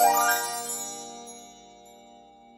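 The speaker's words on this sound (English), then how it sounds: "We gotta play that magical harp sound, man." A magical harp sound effect plays on a sports talk show: a bright, rippling sweep of plucked notes that settles into a sustained shimmering chord and fades slowly, with no talking.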